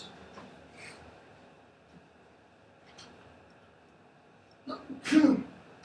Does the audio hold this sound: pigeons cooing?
no